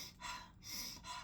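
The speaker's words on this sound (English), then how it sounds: "So it's basically deeper and faster breathing." Deep, fast breathing demonstrated during a holotropic breathwork introductory talk: three strong, breathy, rushing breaths in steady succession, each with a gasping edge, close and alone with no talk.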